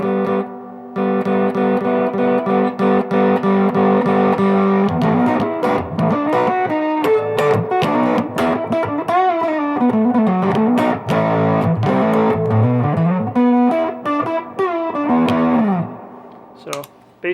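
A bass guitar played through an Angry Mob basic transistor distortion pedal, fuzzy sustained notes then a run of plucked, gritty phrases, close and loud with only brief gaps.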